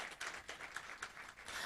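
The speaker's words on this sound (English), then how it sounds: "A hand of applause for you women inside the room." Audience clapping in a room at a women's wealth forum, a short spell of steady applause heard at moderate distance and fairly quiet.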